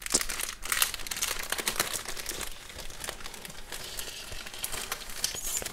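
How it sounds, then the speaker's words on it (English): Thin plastic packaging around make-up brushes crinkles and crackles close up, in dense irregular bursts of crisp rustling that continue throughout without talk. "A lot of crinkles in this video. Like crazy crinkles."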